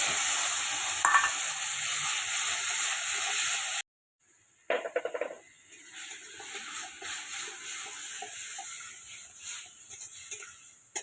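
Ginger, garlic, dried chilli powder, cumin and chopped tomato stir-fried in a pan, giving a steady loud sizzle and scraping that cuts out briefly, then returns with clattering stirs and a softer, uneven fry.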